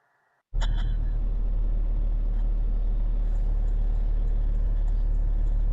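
Car idling at a red traffic light, heard on dash cam playback: a steady, loud low engine rumble and road-noise hum starting abruptly after a moment of near silence and continuing unchanged, with no talk.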